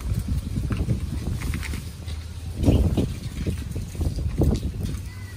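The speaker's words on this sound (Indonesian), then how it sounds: "Anginnya sangat kencang" Strong gusty wind buffets an outdoor spot beside a river, rumbling low and continuous with louder surges, close and rough on the microphone.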